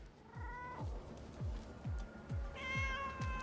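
Cat meowing in a video game, a couple of drawn-out mews heard over a regular series of low repeated thumps, fairly quiet with no talk.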